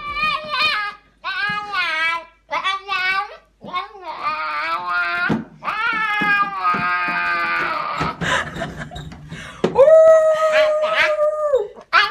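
A dog howls repeatedly in long, wavering, siren-like cries separated by short pauses, close and loud, with a voice and other voices mixed in near the end.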